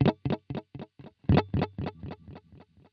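Electric guitar through a TC Electronic The Prophet digital delay pedal: two plucked notes, each trailing a rhythmic string of clear repeats that fade gradually, close and alone with no talk.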